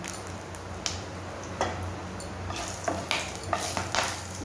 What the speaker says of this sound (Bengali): এবার আমি তেজপাতা, শুকনো লঙ্কা আর গোটা গরম মশলা ফোড়নে দিলাম।